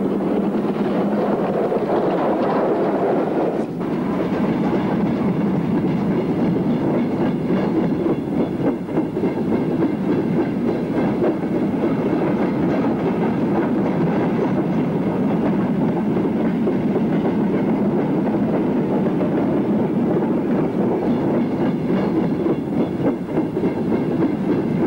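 Two 1930s LMS 5XP steam locomotives haul a fitted freight train past at close range, a steady loud rumble of running gear and wagons with rhythmic clickety-clack over the rails and some wind buffeting throughout.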